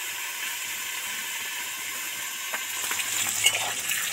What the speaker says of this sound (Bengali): এই মাছ ভাজার তেলে পটল কটা দিয়ে দিচ্ছি